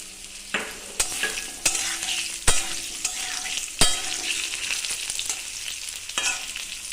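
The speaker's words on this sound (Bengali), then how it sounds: "আলুগুলো একটু লাল করে ভেজে নিয়ে" Small diced potatoes fry in hot oil in a pan, a continuous bright sizzle broken by several sharp scrapes and clacks of a spatula stirring them, loud and close with no talking.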